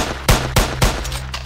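Three sharp, separate pistol shots from dual pistols in a Roblox game, fired one by one at a steady pace, loud and close, with no voices.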